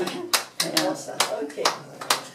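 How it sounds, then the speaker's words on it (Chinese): Hands clapping at a 98th birthday celebration, about half a dozen sharp, uneven claps close by, with voices talking over and between them. "拍手拍手拍手"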